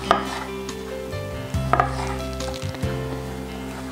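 A few knife cuts slicing a cucumber into thin rounds tap against a cutting board, sparse and close, over a steady background hum of music.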